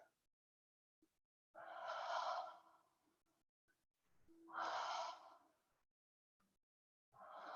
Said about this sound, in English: One more big breath.